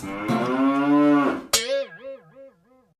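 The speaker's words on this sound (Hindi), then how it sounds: "चाचा चौधरी की भैंस" A buffalo lets out a long, loud moo, then a short sharp burst followed by several wavering, rising-and-falling lows that fade out, with no voices.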